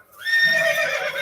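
A single loud horse neigh sound effect, a rising then wavering whinny lasting about a second, heard alone.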